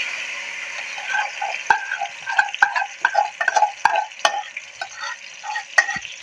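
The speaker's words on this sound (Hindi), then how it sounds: "ये जो हमने मैरिनेशन लगा के चिकन को रखी थी ये हम इसमें शामिल कर देंगे" Marinated chicken stirred into hot ghee in a pot: a hissing sizzle with rapid, irregular scraping and clattering of a spoon against the pot, close and fairly loud, with no talking.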